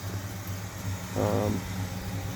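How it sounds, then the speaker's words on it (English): A 1980 Oldsmobile Cutlass engine runs with a ticking lifter on startup, a steady low idle hum with a brief swell in the middle, fairly close and alone. "The engine's got a bit of a tick on startup"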